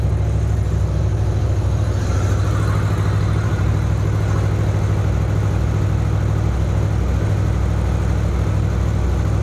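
A 2014 Honda VFR800 motorcycle engine idles steadily and loudly nearby while warming up, a continuous low throbbing rumble with no pauses or voices.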